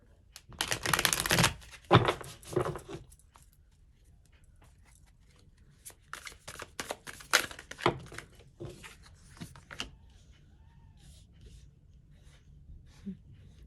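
Tarot cards are shuffled and drawn on a table in close, rustling, riffling bursts. A dense flurry comes first, a quiet pause follows, then another stretch of irregular card slaps and slides.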